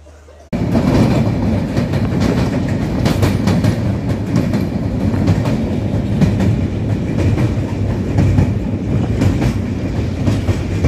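An Indian train runs on its rails with a loud, continuous rumble and rhythmic clickety-clack of the wheels, heard close from inside the carriage.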